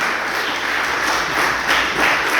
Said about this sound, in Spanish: Démosle una fuerte ofrenda de palmas a nuestro Padre Celestial.